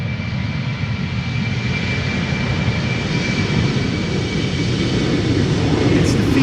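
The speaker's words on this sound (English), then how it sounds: "flight 915 going to Aberdeen, Embraer 190." An Embraer 190 jet airliner at Amsterdam Schiphol Airport gives a loud, steady engine roar that holds evenly throughout and swells slightly toward the end.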